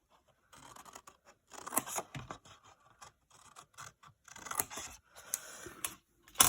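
Scissors snipping through card for a Christmas box, a close run of quiet crisp cuts and scratchy rustles in short uneven bursts.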